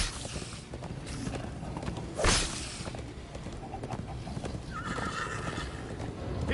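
Galloping horses in the Minecraft Story Mode video game make a busy, steady clatter of hooves, with a sudden loud burst midway and a whinny near the end.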